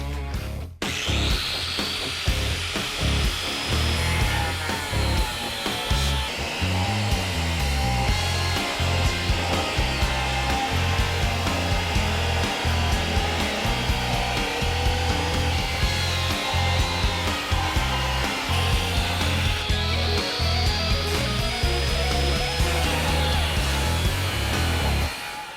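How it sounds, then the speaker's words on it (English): A cutoff wheel slicing through leftover sheet metal: a loud, steady high whine with gritty grinding and rhythmic pulsing as the wheel bites, sustained close up for the whole stretch. "I'm going to have to do that with a cutoff wheel"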